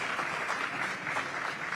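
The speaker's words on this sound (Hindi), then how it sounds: "जरा एक बार जोरदार तालियां इस हौसले की उड़ान के लिए" Audience applause at a sports awards gathering honouring a para archer's coach, a steady dense wash of clapping throughout with no pauses.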